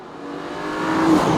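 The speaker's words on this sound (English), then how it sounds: "So this engine, it's not a spine tingler like the GT3, but I do like it." A BMW twin-turbocharged 3-litre straight-six engine revs up steadily, its rising drone building louder over about a second and a half, close and continuous with no talk.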